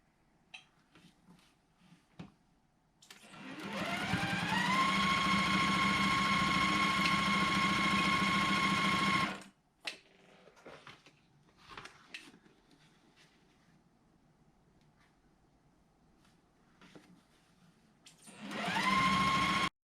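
Quilt block pieces for a 9-patch are sewn together on a sewing machine, which runs in a loud, steady burst of about six seconds, falls quiet with small handling clicks, then starts up again.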